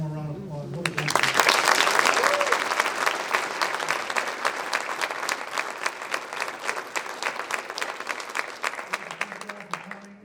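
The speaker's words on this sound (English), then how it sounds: "they deserve one more round of applause" Sustained audience applause at a high school senior awards night honoring students, loud and dense from the start, holding steady for about ten seconds before thinning slightly, with a voice speaking briefly under the opening and near the end.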